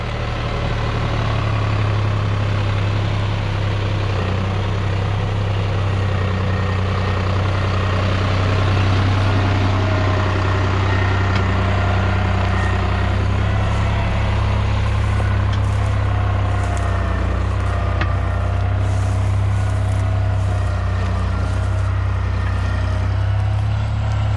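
A New Holland T580B tractor engine holds a steady 1300 rpm, a loud, continuous low diesel drone with a constant rumble throughout and no talk.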